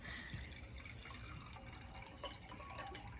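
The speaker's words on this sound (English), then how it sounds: "we're going to pour in 125 mils each" Liquid solution poured into a beaker during a school chemistry lab, giving a steady close trickle and splash with a few drips, no talking.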